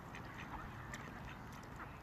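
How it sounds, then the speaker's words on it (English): Ducks quack repeatedly at Westport Lake as they are fed by the canal towpath, a busy, fairly distant chorus of calls over constant outdoor background noise. "Just come round to feed the birds."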